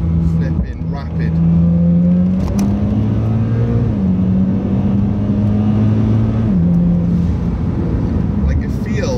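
A Mitsubishi Evo X with the SST dual-clutch gearbox pulls hard from inside the cabin. Its engine note climbs steadily and steps down sharply at three quick gear changes, loud and continuous throughout.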